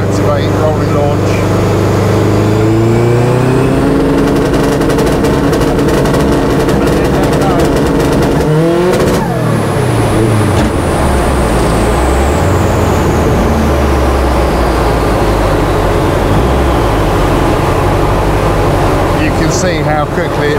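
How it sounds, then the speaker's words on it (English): Turbocharged 500+ bhp Subaru Impreza STi bugeye engine running on a rolling launch limiter in second gear around 4,000 rpm: loud, continuous boosted rasp with rising revs, a sharp pop and surge near the middle, then steady drone, under faint talk. "So if I press the button to activate rolling launch,"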